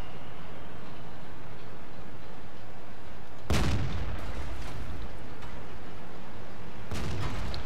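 Tank cannon shots in World of Tanks: a loud, booming blast at about 3.5 seconds with a rumbling tail, then a second shot near the end, after a quiet low background.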